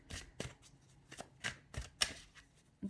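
Tarot cards being shuffled during a reading, a run of soft papery riffles and slaps coming in quick irregular bursts, close and fairly quiet, with no talking.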